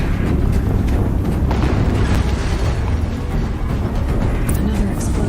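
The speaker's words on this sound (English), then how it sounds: "Another explosion." A heavy explosion in the video game Horizon Zero Dawn: a dense, loud low rumble and roar that fills the whole stretch without letup, with crackling debris on top.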